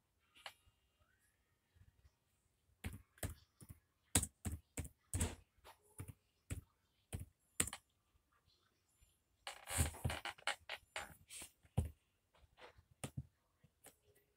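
Someone types on a computer keyboard to chat with the Talking Ben app, making irregular bursts of crisp key clicks with short pauses between them, close and fairly quiet.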